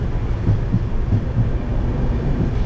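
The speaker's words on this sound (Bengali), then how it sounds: "ট্রেন আমাদের এখন খাগড়াঘাট ক্রস করেছে।" The Kamrup Express, Howrah to Dibrugarh, rumbles along steadily as heard from inside a coach, a loud low roar with faint rhythmic thumps of wheels over rail joints.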